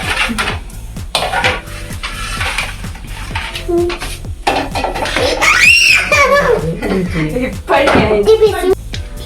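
A metal ladle clanks and scrapes against pots and a steel plate as food is served, with repeated close, bright clinks and knocks and a voice rising in the middle.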